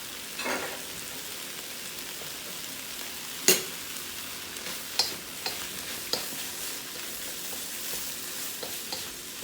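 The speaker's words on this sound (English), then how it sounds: "So let's add our egg back into our recipe." Egg is stirred back into bacon and lobster fried rice with corn, carrots and green onions in a pan, giving a steady soft sizzle broken by occasional sharp scraping clicks of the utensil, no voices.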